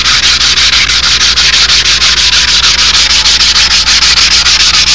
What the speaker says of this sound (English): I just want to show just about how much sanding we're talking about in between coats